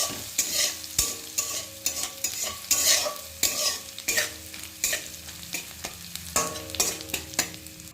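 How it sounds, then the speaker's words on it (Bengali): Whole spices, dried red chillies, bay leaf and ginger sizzle in hot oil for a Bengali khichuri tempering, a loud steady crackle broken by repeated sharp scraping clinks of a spoon against the pan. "ফোড়নে দিয়ে দিলাম 5 ফোড়ন, শুকনো লঙ্কা, তেজপাতা, আদা।"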